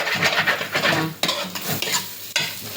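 Chicken curry gets stirred in a clay pot, with close, rough scraping strokes against the pot under a faint sizzle, several uneven strokes in quick succession and no talking.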